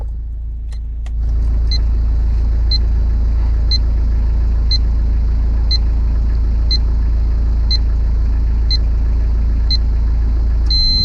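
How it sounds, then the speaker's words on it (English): A 1990 Mitsubishi Delica Star Wagon 4x4 idles with a loud, steady low rumble after a couple of clicks, while a turbo timer beeps once a second in a regular countdown. "turn off the engine now, and you can see that it'll do a 10-second countdown before it actually kills the engine"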